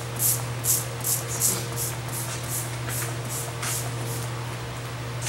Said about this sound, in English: And now we are going to spray a piece of hay.